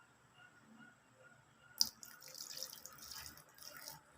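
Clean water poured into a container to rinse a copper-nickel coin after tumbling with dishwashing soap, a sharp splash followed by soft, irregular trickling and gurgling, faint and close.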